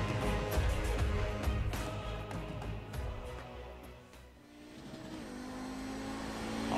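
A GSRC Audi race car's engine drones loud and steady through a lap of Silverstone in iRacing, dipping briefly as if lifting off, then building and revving again, heard from on board with no talk.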